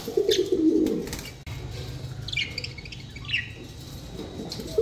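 Tame pigeons coo close by in soft, rolling phrases, with a few chirps and light rustling around them and no talking.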